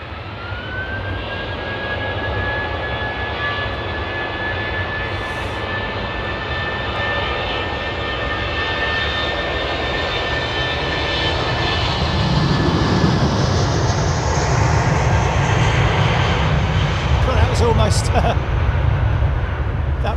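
Airbus A320 airliners at London Heathrow, one landing on the southern runway while another takes off from the northern: a loud, sustained jet engine roar with a rising whine, swelling louder partway through, under steady background noise.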